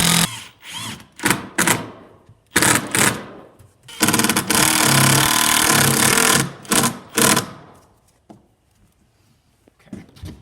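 Power drill driving a screw into a wood stud on a BMX ramp add-on, heard as several short loud whirring bursts, then one long sustained drive with the motor bogging, followed by a few brief trigger pulses.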